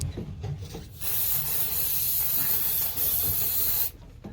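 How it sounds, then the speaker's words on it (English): An aerosol can of cleaning lubricant sprays onto the ignition points of a Bedford CA panel van engine in one steady, loud hiss lasting about three seconds, with faint clatter before and after. "now I'm going to spray the points"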